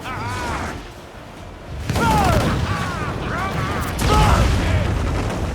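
Naval cannon fire from a ship in Assassin's Creed IV Black Flag, heavy booming blasts that surge in waves beneath shouting crew voices and whistling, sweeping projectile sounds.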